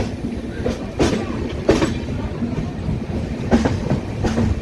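A Swarnajayanti superfast train rolls steadily along the tracks into Duvvada station with a continuous low rumble, punctuated by a few sharper clacks from the wheels passing rail joints.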